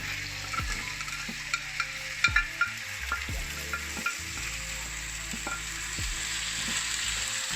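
Vegetables with a piece of Scotch bonnet pepper cook down in a pot with a gentle continuous sizzle. A spoon knocks and scrapes against the pot in irregular close strokes, and no one speaks.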